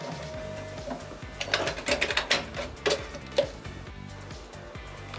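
A sewing machine runs a long basting stitch with a close, uneven mechanical clatter of ticks and taps that rises and falls in short bursts.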